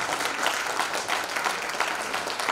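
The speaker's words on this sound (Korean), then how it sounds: "박수 한번 쳐주십시오." An audience at a Pai Chai baseball alumni year-end gala claps in a steady, dense burst of applause, loud and close, filling the whole moment without voices on top.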